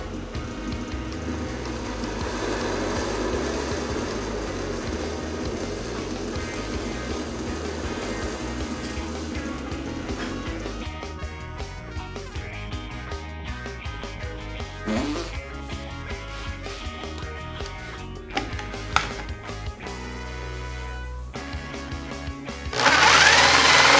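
Power saw cutting out a piece of a Batman Arkham grapple gun prop, a steady loud mechanical whine with grinding texture that runs for several seconds, then gives way to sporadic knocks and handling clatter and a final burst of noise.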